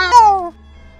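A single loud cat meow, short and falling in pitch, then quiet.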